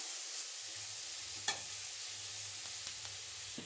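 Onions fry in a pan with a quiet, even sizzle, broken by a few soft clicks of a utensil stirring.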